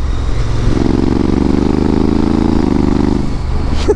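A Honda Africa Twin DCT adventure motorcycle rumbles close by with a steady engine note. The note shifts in pitch partway through as it changes gears, and nobody speaks.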